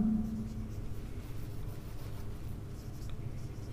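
Writing on a board during a Class 10 maths lesson, heard as faint, continuous scratchy strokes over a low room hum.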